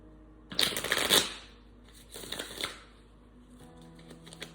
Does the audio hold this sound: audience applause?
no